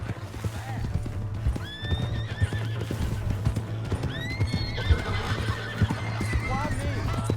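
Horse hooves clip-clopping at a gallop with repeated neighs and whinnies in the Red Dead Redemption 2 video game, loud and continuous, with game characters' voices shouting over it.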